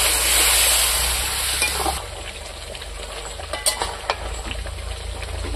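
Water poured into sizzling mutton masala in a pan: a loud, hissing rush of sizzle for about two seconds, then a quieter steady frying crackle with scattered scraping clinks of a spoon stirring.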